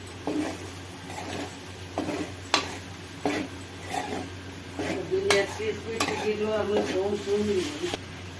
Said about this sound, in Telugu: ఒకసారి మంచిగా కలుపుకోవాలి.